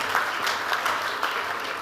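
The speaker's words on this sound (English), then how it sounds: "big round of applause to all the participants and the winners." Dense audience applause for participants and prize winners at a corporate event, a steady wash of many hands clapping without a break, fairly loud and close.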